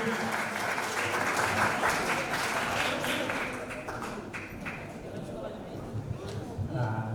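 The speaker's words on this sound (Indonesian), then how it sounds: "Boleh kita berikan tepuk tangannya Bapak dan Ibu" Audience applause for a Hindu religious figure at an interfaith community gathering, sustained clapping that softens midway, with voices mixed in.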